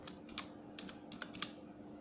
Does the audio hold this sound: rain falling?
no